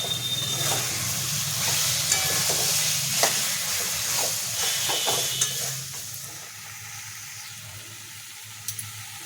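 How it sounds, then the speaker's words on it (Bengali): Curry sautés slowly in an iron kadai, a steady loud sizzle and hiss of oil with spatula scrapes and occasional clinks running continuously throughout. "এটাকে এবার অনেকক্ষণ ধরে কষতে হবে"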